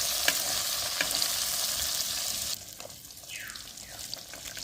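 Fish pieces fry lightly in oil in a pan in a village kitchen, a steady close sizzle that drops quieter midway, followed by a few brief scraping stir sounds.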